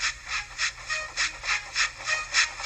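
A Tomy toy Thomas the Tank Engine train runs along, giving a steady rhythmic chuffing hiss of about three puffs per second, close and fairly quiet, with no voices.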